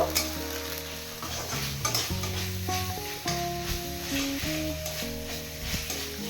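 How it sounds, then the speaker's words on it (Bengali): Onion paste fries and is stirred in a pan for a prawn malai curry, giving a steady sizzle with scraping strokes throughout, under steady background music. "এবার পেঁয়াজ বাটা দু থেকে তিন মিনিট ভালো করে ভেজে নেব"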